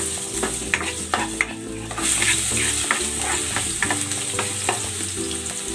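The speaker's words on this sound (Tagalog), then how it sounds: "Gigisa ko na tong luya." Ginger sautés in hot cooking oil with a constant close sizzle, while a utensil stirs and clinks against the pan in an irregular rhythm.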